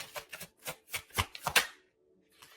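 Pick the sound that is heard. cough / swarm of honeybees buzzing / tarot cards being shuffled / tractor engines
tarot cards being shuffled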